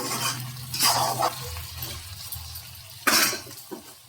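Mutton stirred in a kadai during curry making, a soft continuous sizzle with scraping stirs at moments and a sharper burst of frying hiss near the end, no talking.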